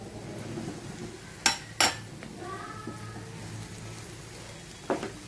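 A metal spoon turns grated coconut through a broad bean stir-fry in a pan, with a few sharp scrapes and clinks against the pan over a low, steady background.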